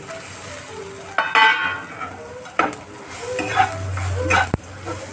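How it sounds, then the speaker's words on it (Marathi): Fried bitter gourd being stirred into browned onions in a pan, giving scraping spoon strokes and light sizzling at close range, with brief clatters and a sharp knock near the end. "आपला कांदा भाजून झालेला आहे त्यात आपण हे फ्राय केलेले कारली"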